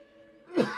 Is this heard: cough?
yes